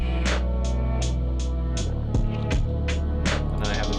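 Half-timed drums, piano and guitar play together in a slowed music production outro, with sustained low piano and guitar tones under a regular pattern of bright cymbal and snare hits, full and loud throughout.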